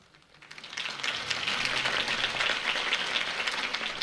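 Crowd applause swells after Harvey Dent's campaign speech in Batman: The Telltale Series, a dense wash of clapping that rises within the first second and holds steady and loud to the end.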